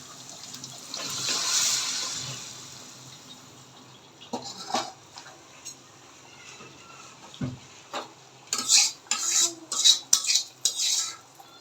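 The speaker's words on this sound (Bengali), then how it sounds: "এখন এই ফোড়নটা আমি ডালের মধ্যে দিয়ে দেবো" Hot spice tempering poured into cooked dal, a brief hissing burst, then quieter moments and a clatter of utensils and pots as it is stirred in.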